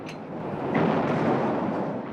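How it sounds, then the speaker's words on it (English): Naval guns of about 200 Allied warships bombarding the Atlantic Wall coast, a dense, sustained rumbling roar of heavy gunfire that swells slightly and stays loud throughout. "the guns of 200 Allied warships began their bombardment"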